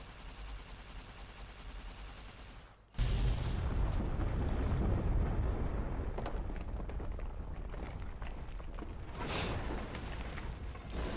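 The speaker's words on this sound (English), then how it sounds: "Another explosive to explode." Explosive detonating in Fallout: New Vegas: a sudden loud blast cuts in after a stretch of low rumble, followed by a long rolling roar with scattered crackling debris and a second surge near the end.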